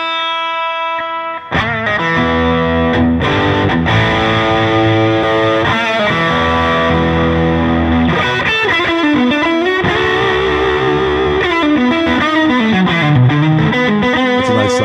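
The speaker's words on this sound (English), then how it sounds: "Here's the overdrive on the amp." Electric guitar played through an amp's overdrive channel, loud sustained distorted chords and bending notes ringing out continuously, close and without talk.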